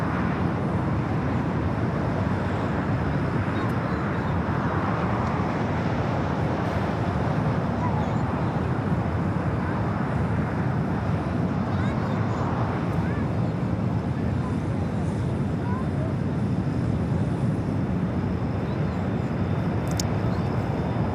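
A Delta Airbus A321neo airliner touches down on the south side at LAX, giving a continuous, dense rumbling roar that stays level and wind-blown for the whole stretch.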